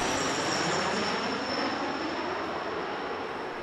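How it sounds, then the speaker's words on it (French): A Dash firefighting airplane drops ten tonnes of fire retardant over a wildfire. Its engines make a loud, steady broadband roar that fills the whole span, along with a faint high whine and no voices. "Un avion Dash largue 10 tonnes de retardant."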